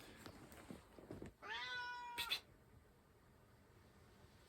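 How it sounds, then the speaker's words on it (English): A pet cat named Panda lets out a couple of soft meows indoors, the clearer one drawn out and rising, with quiet household background around it. "Little cat."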